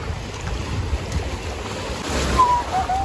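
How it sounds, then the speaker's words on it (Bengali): Sea waves wash onto a beach in a short, continuous surge that grows slightly louder toward the end, mixed with rumbling wind buffeting the microphone. "ঢেউটা দেখা একবার শুধু"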